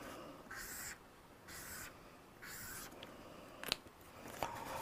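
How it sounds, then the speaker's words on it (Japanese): A pen draws lines on paper in three separate scratchy strokes, each roughly half a second long and evenly spaced, followed by a few faint taps. The strokes are quiet and there is no talking. "ペンで書きますね。"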